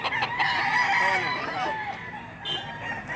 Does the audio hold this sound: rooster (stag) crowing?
yes